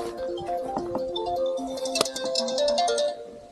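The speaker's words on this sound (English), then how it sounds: "My phone's ringing, who can this be?" A mobile phone rings with a melodic tone outdoors during a snowy quad ride, the ringtone playing steadily and fairly loud with no talk over it.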